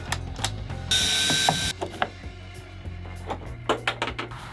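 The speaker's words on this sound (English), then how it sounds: "18-volt lithium-ion battery screwdriver with a T30 screw head" An 18-volt lithium-ion cordless screwdriver fitted with a T30 star bit, working inside a micro camper conversion, gives repeated ratcheting clicks and a short whirring motor burst, close and fairly loud, with no talking.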